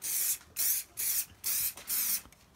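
Muc-Off fabric protector sprayed onto an old motorbike jacket in five steady aerosol bursts, each a close hiss of about half a second with short pauses between.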